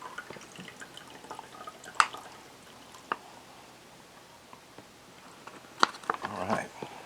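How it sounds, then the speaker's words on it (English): Water drips and trickles as it drains off a rehydrated freeze-dried Mongolian beef meal, with scattered soft drops and small splashes, a wet squishy patch near the end, faint and close. "if I drain that water off, possibly for later use, might make it easier."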